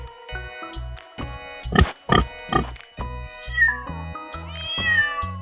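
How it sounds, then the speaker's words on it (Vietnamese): A pig gives a short cluster of grunting oinks near the middle, close and clear, set over light, steady children's background music. "Con lợn."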